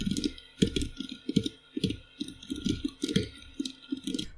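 Computer keyboard typing during a PHP login-system coding session: a run of quick, uneven key clicks close to the microphone, with brief pauses between bursts and no talking.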